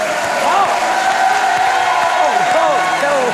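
A studio audience on a French TV show claps and cheers steadily for a young singer, a dense, loud wash of applause with whoops rising over it.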